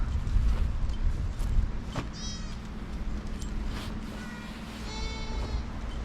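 Goats being kept for milk near a campsite by waterfalls and caves in Limavady, County Londonderry, bleating several times in wavering calls over a steady outdoor background.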